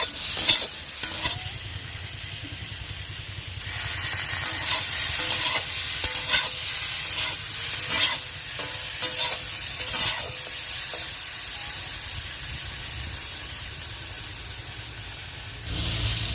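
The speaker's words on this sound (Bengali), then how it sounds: "লবণ আর হলুদ দিয়ে আমি আলুগুলো এরকম করে কষিয়ে নিয়েছি" Potatoes sauté in hot oil with salt and turmeric, giving a loud continuous sizzle and hiss broken by repeated scraping clinks of a stirring spatula, close up, with no voices.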